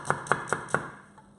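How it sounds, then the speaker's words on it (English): A knife chops an onion on a cutting board, four crisp evenly spaced strikes close up, followed by a fainter fifth tap after a pause. "Right, so chop the other onion."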